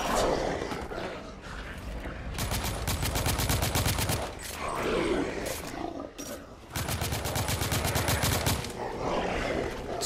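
Heavy automatic gunfire from The Order 1886, played on hard difficulty, comes in two long, dense bursts of rapid shots, loud and close, with quieter stretches of scattered fire and game noise between them.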